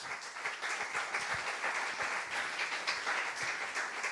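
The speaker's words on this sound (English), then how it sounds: "big round of applause" Steady, dense applause from a conference audience fills the whole stretch at an even level, with no break and no voices standing out.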